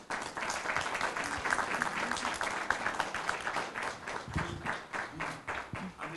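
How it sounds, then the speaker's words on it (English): Audience applause fills a Southeast Model African Union conference opening ceremony, a dense, steady wash of many hands clapping for several seconds with faint voices underneath. "please, a big round of applause"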